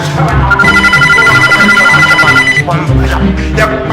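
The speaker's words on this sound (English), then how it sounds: "The phone rings." A telephone rings with a bright, repeating electronic trill over a steady background, loud and close, lasting a few seconds before fading into a cluttered mix.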